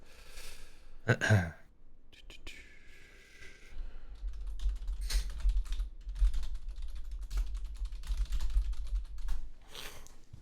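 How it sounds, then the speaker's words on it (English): Quick bursts of typing on a computer keyboard during a livestream, with soft irregular key clicks under a low background hum, interrupted by a brief breath or gasp near the start. "I'm going to type something to you quickly"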